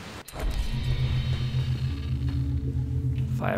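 A thunderstorm rolls in during a Far Cry 3 game session, a steady, loud low rumble with a droning hum that holds for several seconds and swells slightly toward the end.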